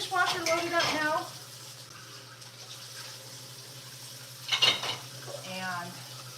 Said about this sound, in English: I'm going to get the dishwasher loaded up now.